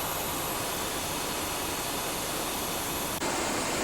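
Antonov 124 jet engines at a cruising altitude of around 30,000 feet make a steady, loud, broadband roar with no break, heard from inside the aircraft.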